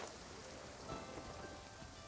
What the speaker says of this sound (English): Here we are on this rainy day.